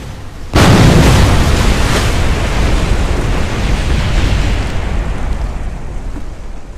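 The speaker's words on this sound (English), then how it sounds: "Nice explosion for you guys." A rocket blows up in Kerbal Space Program: a sudden loud boom that gives way to a long, dense roar of rumbling noise, slowly fading over several seconds with no talking.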